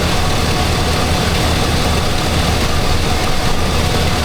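A loud, steady Chevy 2500HD pickup truck engine idles close by with a deep, continuous rumble and a slight hitch in its running. No voices are heard.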